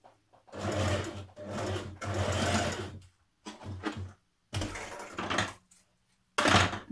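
A home sewing machine stitches a shirt dress seam in several separate bursts of steady, close whirring, with short pauses between runs and no talking.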